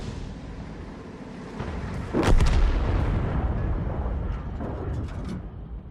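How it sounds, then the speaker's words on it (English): High-explosive artillery shells landing in a tank combat video game: one heavy boom erupts mid-way over a constant battle rumble, followed by a rolling tail and a few faint cracks. "the liberal application of a lot of high explosive will really ruin that STRB's day"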